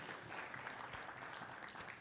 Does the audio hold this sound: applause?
yes